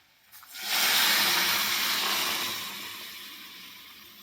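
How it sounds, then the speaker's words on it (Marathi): Water pours into a hot pan for a pea and potato curry, a sudden loud sizzling hiss that swells quickly, then gradually fades to a softer steady simmer, no talking. "तर हे बघा पाणी मी ॲड केलेलं आहे."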